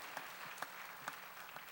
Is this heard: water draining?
no